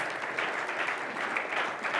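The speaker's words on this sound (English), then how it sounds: "Give him a round of applause." A round of applause from the audience at an entrepreneur leadership talk, many people clapping in a steady, even patter for about two seconds, moderately loud and with no voices on top.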